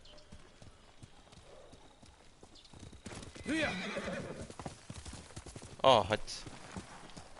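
Horse hooves clip-clopping in Ghost of Tsushima, a steady galloping rhythm with a whinny, rising to louder bursts near the end, with someone speaking briefly over it.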